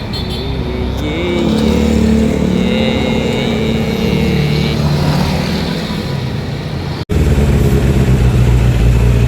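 Suzuki Impulse 400cc motorcycle engine running after carburettor cleaning, a loud close steady rumble with a brief cut near the end before picking up again.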